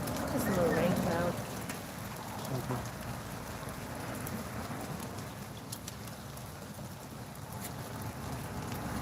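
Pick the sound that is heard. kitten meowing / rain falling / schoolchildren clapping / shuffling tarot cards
rain falling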